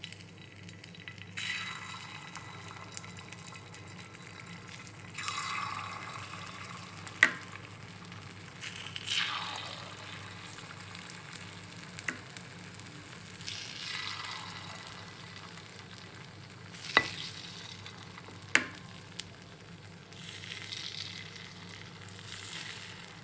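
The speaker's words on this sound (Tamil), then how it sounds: "இந்த சட்டியில் பொறிக்க போகிறேன் இப்போ காய்ந்த சட்டி இப்போ ஒரு கொஞ்சம் கொஞ்சம் நான் எண்ணெய் விட்டிருக்கிறேன்" Eggs frying in a little oil in a hot pan give a quiet, steady sizzle that swells in several waves, with a few sharp clinks of a utensil against the pan and no talk.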